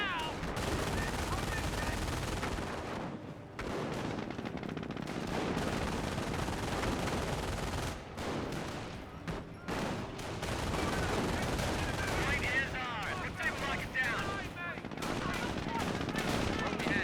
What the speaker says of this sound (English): the Jeep's gonna fire a nice little volley there